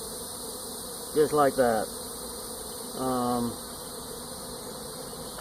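Honey bees swarm loudly in short buzzing bursts while a nuc is moved into a hive box, over a quiet steady hum; a person speaks briefly.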